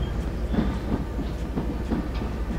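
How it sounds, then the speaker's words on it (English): Train rolling along in the zombie survival game Zompiercer, a steady clickety-clack of wheels over rail joints with a continuous low rumble, close and even throughout. "Stop the train."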